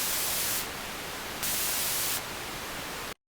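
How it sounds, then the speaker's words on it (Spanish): Pink noise from a synthesizer oscillator, a steady loud hiss with a balanced tone that runs continuously for about three seconds, with brief level shifts, before cutting off abruptly. "Ese es el ruido rosa"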